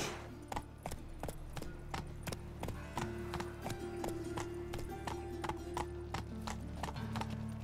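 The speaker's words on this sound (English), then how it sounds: "Whoa there, Roach." The horse in The Witcher 3 video game clip-clops steadily along a hard path, its hooves hitting in an even walking rhythm over a low ambient background, fairly faint and with no speech.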